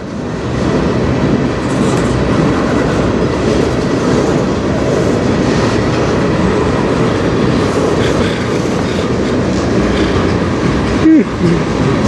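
A CN manifest freight train led by locomotives 3185 and 5629 rolls past on the Strathroy Subdivision, a loud, steady rumble with rhythmic clickety-clack of wheels over rail joints, close by throughout.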